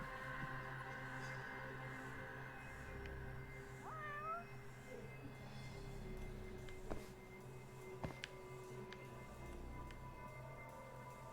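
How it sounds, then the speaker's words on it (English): A cat meows a few times in the game Judgment, with short rising calls near the middle over a steady hum of background ambience and music, and no talk. "Why is there a cat meowing?"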